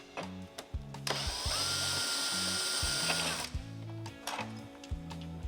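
A power driver spins out T27 Torx bolts from the outer front fairing of a 2015-or-later Harley-Davidson Road Glide, one steady whirring run of about two and a half seconds between short ratcheting clicks and handling noises, close up.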